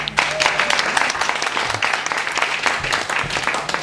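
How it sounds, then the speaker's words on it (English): A comedy club crowd in San Francisco applauds at a live stand-up show, a sustained burst of clapping and cheering throughout. "Please applaud."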